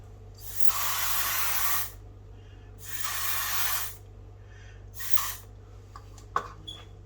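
A spray bottle misting paper laid flat and held by weights for calligraphy, three long hissing bursts close by, the third shorter, followed by a few faint clicks and bumps.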